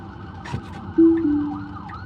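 A siren wails briefly in the distance over road noise, its tone sliding downward as a vehicle passes.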